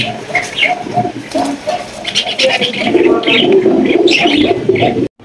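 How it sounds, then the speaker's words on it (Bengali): A pair of Bombay pigeons coo steadily and close by, their soft rolling calls overlapping for about five seconds, with a few faint chirps mixed in before the sound cuts off abruptly. "কত সুন্দর একজোড়া বোম্বাই কবুতর।"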